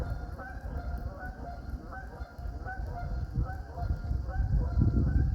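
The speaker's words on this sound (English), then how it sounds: "There's one old goose." A lone goose sitting on a log near the water honks in repeated rhythmic calls, close and fairly loud over a rumbling low background that grows louder toward the end.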